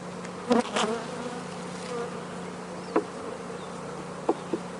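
A steady low insect buzz of honey bees hums throughout, with a few soft knocks and clicks near the frames.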